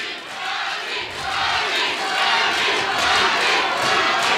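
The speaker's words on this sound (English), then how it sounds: "A great atmosphere amongst the crowd as well" A crowd at a boxing bout roars continuously, the cheering swelling louder and busier through the second half, heard as a dense wash of voices with no single speaker standing out.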